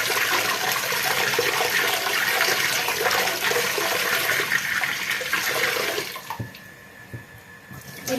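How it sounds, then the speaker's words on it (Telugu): Water pours and sloshes while grains are washed in a big bowl, a loud continuous rushing stream for about six seconds that then cuts off, leaving quieter trickles and drips. "ఇంకా చక్కగా పెద్ద గిన్నెలో వేసేసుకుని ఇంకా కడిగేసుకుని నానబెట్టుకోవాలండి"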